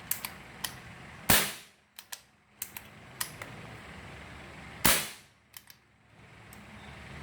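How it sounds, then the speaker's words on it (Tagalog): Motorcycle engine with a leaking transfer port backfiring, two sharp loud pops standing out over a faint idle, with smaller ticking clicks scattered between them. "siguro pag may bala, ayan na nagbabackfire"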